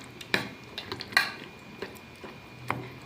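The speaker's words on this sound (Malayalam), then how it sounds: "നന്നായിട്ട് ഇളക്കി യോജിപ്പിക്കുക." A spoon stirs ginger yogurt in a bowl, giving a few faint scattered clinks against the side amid quiet scraping, close and sparse with no talking.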